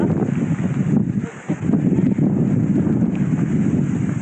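Strong gusting wind at a mountain tent campsite on Doi Samoe Dao, roaring loudly and continuously into the microphone with a brief lull in the middle, no speech.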